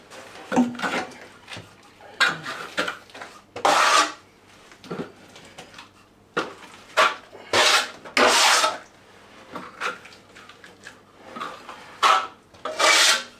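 Steel plastering trowel spreading plaster along the top of a wall, giving repeated short scraping, rasping strokes in bursts with brief pauses between them, fairly close and clear, with no talking.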